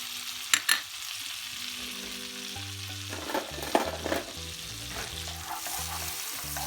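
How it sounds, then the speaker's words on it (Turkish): Chopped onions hit hot olive oil in a pan for a pasta sauce and sizzle steadily, with a few soft clinks of stirring and light music playing underneath. "Önce soğanlarımı atıyorum arkadaşlar."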